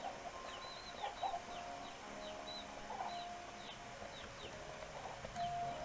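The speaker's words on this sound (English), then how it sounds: "Might as well leave a couple roosters here." Chickens and roosters cluck in the video game Slime Rancher 2, soft repeated bok-bok calls and short chirps scattered steadily over a quiet ambient game backdrop, no talking.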